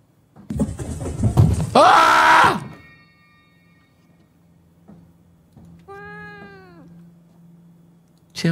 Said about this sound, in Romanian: E doar o pisică, Ioan.